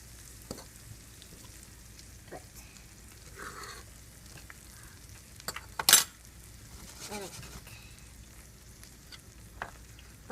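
Eggs fry in a pan for a Haitian smoked herring omelette, a soft steady sizzle with occasional clinks and stirring scrapes, one sharp louder clatter midway, all fairly quiet and close.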